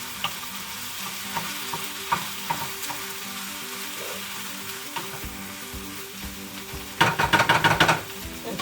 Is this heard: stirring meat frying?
yes